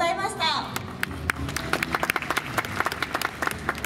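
An audience at an idol group concert claps in a brisk patter of overlapping hand claps after a brief spoken voice, the applause close and fairly loud.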